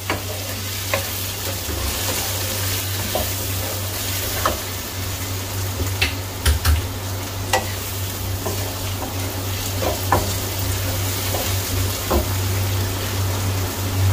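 Potatoes and spinach cook in a pan with a pinch of turmeric and other spices, giving a steady close sizzle broken by scattered spoon scrapes and clicks as the spices are stirred through. No voices.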